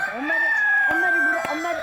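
An aggressive ogye, a black Korean medicinal chicken on a farm in Nonsan, South Korea, gives a loud, close, drawn-out series of agitated clucking calls that rise and fall in pitch.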